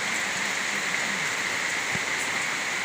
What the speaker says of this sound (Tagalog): Lalo lumalakas yung ulan guys.